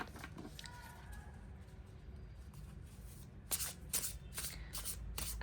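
A deck of tarot cards is shuffled close by. Soft riffling and rustling comes first, then a run of sharper, rapid card flutters toward the end, with no talking.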